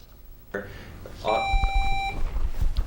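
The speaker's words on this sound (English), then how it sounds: "Loud yells and buzzers spill from the room." A single sharp electronic quiz bowl buzzer tone sounds for under a second amid faint room chatter and knocks.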